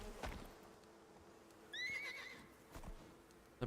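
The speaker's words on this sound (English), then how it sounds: "I brought the horsey with me." A horse in a video game gives one clear, quavering whinny in the middle, with rising and falling pitch. Faint hoof clip-clops and soft thumps come before and after it, and nobody talks.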